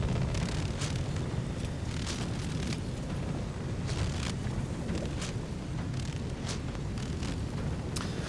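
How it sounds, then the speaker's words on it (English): A frost spell explodes in Baldur's Gate 3 as a sustained, roaring blast of broadband noise, peppered with sharp crackling bursts throughout, with no voices. "Caught in the frosty explosion."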